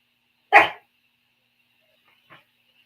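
One sharp, close dog bark, then a faint brief yip about two seconds later, heard alone with no talking.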